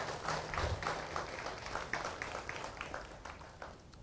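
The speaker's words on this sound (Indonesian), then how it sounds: "Tepuk tangan dulu orang Bali." Faint, scattered clapping from a small group, with irregular claps spread over a few seconds and no talking.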